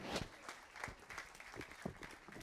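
An audience at a TEDx event applauds a departing speaker with quiet, uneven clapping that rises and dips in scattered bursts.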